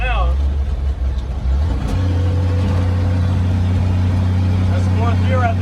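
A roughly 70-year-old farm truck engine runs loud and close, with a steady low drone that deepens and strengthens as it accelerates, and brief talk near the start.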